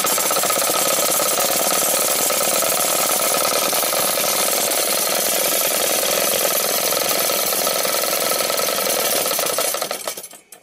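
A three-phase magnetic levitation coil machine runs with a loud, dense, buzzing electrical hum and rattling vibration, steady throughout before cutting off abruptly at the end.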